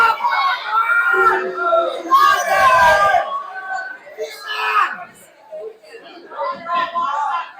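Wrestling crowd cheering and yelling in support of wrestler Danni Deep, a loud continuous mass of chatter, whoops and shouts with surging peaks, rising and falling throughout.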